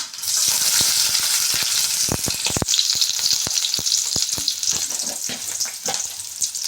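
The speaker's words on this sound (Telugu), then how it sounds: "స్టవ్ వెలిగించుకొని పెనుగు పెట్టుకున్నాం ఆయిల్ వేసుకున్నాం మనకు తగినంత ఆయిల్ చూడండి ఎర్రగడ్డ వేసుకున్నాం" Onions frying in oil in a pan on a stove give a steady, close sizzle throughout, with scattered crackles and pops.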